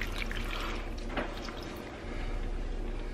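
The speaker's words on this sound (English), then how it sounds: "the smallest amount of water to add to the bottom" A small amount of water is poured into the bottom of a crockpot over oxtails and onions, giving a soft, close trickling and splashing that stays faint and steady.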